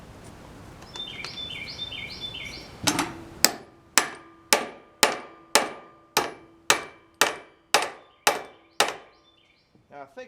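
A dozen sharp hammer blows ring out at a steady, even pace at a sawmill, each metallic strike clear and close, after a quieter start with faint birdsong.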